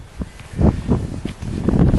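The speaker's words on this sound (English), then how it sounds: "it's windy out here" Gusty wind buffets a microphone outdoors while someone works on a homemade fabric kite, rising and falling in low rumbling bursts throughout with a few faint rustles.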